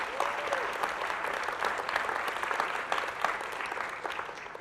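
Sustained applause from a large audience at a college convocation, steady dense clapping that holds at even strength throughout without letting up.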